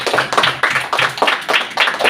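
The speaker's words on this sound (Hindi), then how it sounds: "प्रभु के लिए ताली बजा सकते हैं क्या सर?" Church congregation clapping in unison for the Lord, a brisk rhythmic run of sharp, close, loud claps in regular groups with no speech over them.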